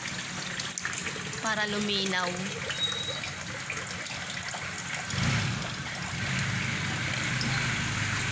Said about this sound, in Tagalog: Patayin natin yung agos ng tubig